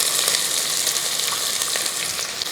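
Sliced onions tossed into a hot pan of oil with garlic and green chillies for a Kerala-style chickpea curry, giving a steady, close, bright sizzle with a few crackles and no talk.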